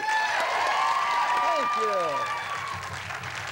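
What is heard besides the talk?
audience applause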